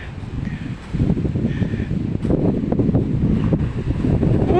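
A big ocean wave crashes, a broad roar of surf swelling up and holding loud, mixed with gusty wind buffeting the microphone.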